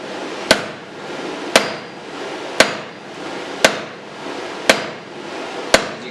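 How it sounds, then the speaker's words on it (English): Blacksmith hammering hot bar stock over a round die at the near edge of an anvil, drawing a reverse taper: six sharp, ringing hammer strikes at a steady, slow rhythm, close and loud, with no talk. "Using my round die and the near edge of the anvil, I will be reducing material towards me, creating a reverse taper."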